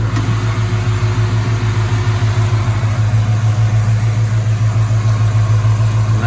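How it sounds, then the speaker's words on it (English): Small-block Chevy 305 V8 with an Edelbrock carb idling through a mild exhaust on a 1949 GMC 100 pickup, a steady, even low burble with a regular pulse, close and continuous with no talking. "Exhaust sounds decent. It's not a loud exhaust by any means"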